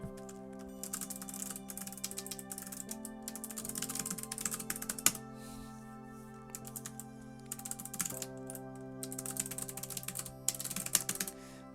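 Rapid, continuous clatter of keys on a computer keyboard, close and fairly loud, in dense bursts with brief pauses, while steady musical tones hum underneath throughout.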